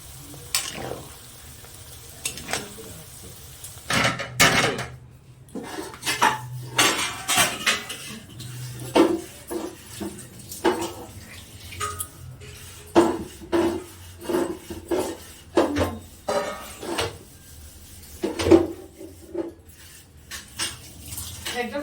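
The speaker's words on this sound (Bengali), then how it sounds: "এইভাবে পনিরটা ভেজে নেওয়া হবে সাদা তেলের মধ্যে" Paneer fries in white oil in a metal pan, with a steady sizzle under frequent spatula scrapes and clinks against the pan, close and prominent over the whole stretch, with faint voices now and then.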